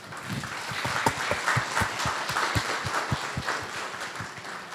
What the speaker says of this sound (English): Applause for Fred.